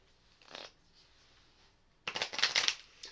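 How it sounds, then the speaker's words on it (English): Shuffling a stack of hockey game cards: a brief riffle, a pause, then a longer louder riffle and bridge of cards snapping together, close and alone. "Then I shuffle them."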